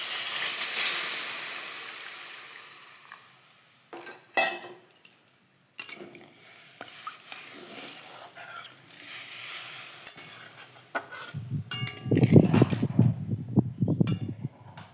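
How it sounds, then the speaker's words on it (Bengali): Water poured into sizzling fried tomato masala in a pan for a homestyle egg curry: a loud steamy hiss at first that fades away, then scattered utensil clinks, and low bubbling near the end. "এবার আমি পরিমাণ মতো জল দিয়ে দেবো।"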